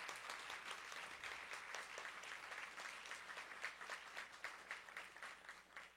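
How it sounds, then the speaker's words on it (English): Audience applause for the Swaranjali student performers at a Students Day event, a steady wash of many hands clapping at moderate level throughout, fairly distant and without speech. "let's give a round of applause to all the Swaranjali performers for their performance today"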